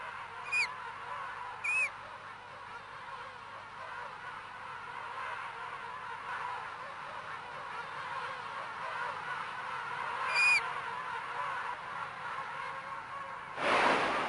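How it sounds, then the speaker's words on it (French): A king penguin chick calls from inside its egg with a few thin, high peeps: two close together early on and one more much later. The peeps are faint over a steady hiss of background noise, and a loud rush closes the clip. "Le poussin est un chanteur précoce. Déjà, il vocalise dans sa coquille."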